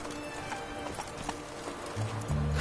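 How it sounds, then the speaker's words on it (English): In The Witcher 3, a horse runs with quick, rhythmic hoofbeats under dense game music and ambience, ending with a low sustained tone. "Run, Roach."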